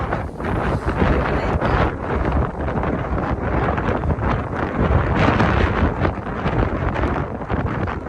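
Very strong wind roars steadily across the microphone during snowfall in Edmonton, a dense, loud, continuous rush with slight surges and no voices.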